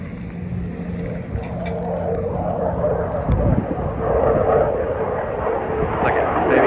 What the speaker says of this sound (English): that's probably F-15.